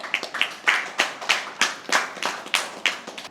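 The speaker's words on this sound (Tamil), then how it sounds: "உங்களை உற்சாகமான கரகோஷம்." Applause from a small audience at a Tamil-language school debate stage, with about ten sharp, evenly spaced bursts of claps over three seconds, close and fairly loud with no talk.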